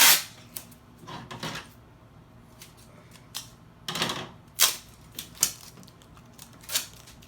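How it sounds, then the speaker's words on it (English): Packing tape being pulled off a large roll and cut into pieces for boxes, several sharp ripping and snipping bursts spaced irregularly, close by, with quiet gaps between them and no talk. "So I'm just pre-cutting some tape."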